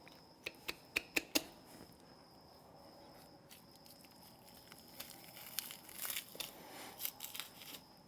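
A deer tenderloin is peeled by hand off the carcass along the chine bone toward the hind round. A quiet, wet tearing and crinkly handling follows a few sharp clicks near the start, with no voices.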